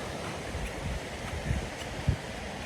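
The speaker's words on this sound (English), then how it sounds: "Continuing to hike along the Steelhead Falls Trail, admiring this beautiful river next to us." The Deschutes River flows through its canyon beside the Steelhead Falls Trail as a steady, faint rush of water, with light wind noise and a couple of soft low thumps.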